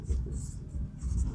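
Chalk or marker scratching out an answer on a board during a Hindi-language class 9 maths lesson on surface area and volume, in soft irregular strokes with a bit of faint speech nearby.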